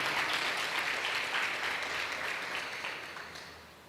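A church congregation claps together in a dense, steady wash of applause that gradually fades over a few seconds, heard alone without speech.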